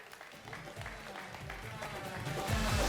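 Steady applause from an indoor audience at a finance seminar in Mumbai greets a trophy presentation, the clapping building gradually and holding at a moderate, fairly distant level.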